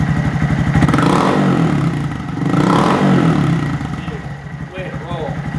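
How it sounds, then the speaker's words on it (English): A 2019 Honda Monkey motorcycle fitted with a Yoshimura full-system race exhaust revs up close by in two rising throttle blips over a low rumbling idle, with someone speaking over it. "Now let's hear what it sounds like when we crack the throttle."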